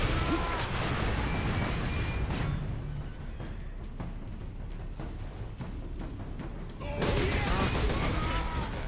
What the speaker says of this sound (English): Next barrage is over here. It's already here.